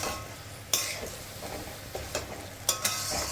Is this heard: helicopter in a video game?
no